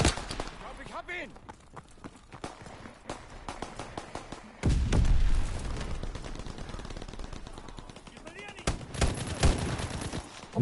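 Bursts of automatic gunfire from a Tommy gun or machine pistol in a WW2 shooter game, rapid rattling volleys interspersed with single shots and explosions, with game voices and speech mixed in.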